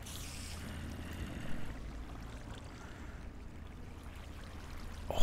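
Steady flowing water in a Minecraft cave, a continuous wash of rushing noise heard alone at a moderate level.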